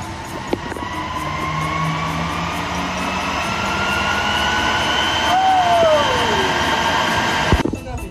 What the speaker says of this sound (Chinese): 来给大家打开听一下声音啊，两个风扇